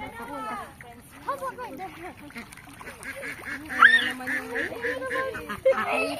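Ducks and geese on a farm in Batangas honk and quack in a busy, overlapping chorus, with loud nearby calls rising over people talking casually among the flock.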